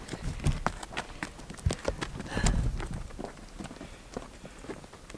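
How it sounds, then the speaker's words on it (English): Donkeys led by a boy walk along a street in the small town of Maras, Peru, their hooves clip-clopping close by in an uneven rhythm of sharp knocks. "Just a boy walking his donkeys."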